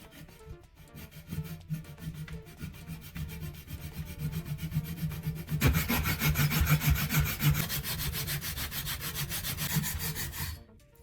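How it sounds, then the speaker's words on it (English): A hand saw cuts a narrow slot into a small wooden block meant as a scissor-sharpening guide, making steady rasping back-and-forth strokes that grow louder and denser partway through, close up with no talking. "carefully saw a narrow slot along that line"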